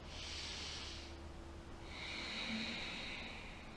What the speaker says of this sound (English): Deep breath into the belly.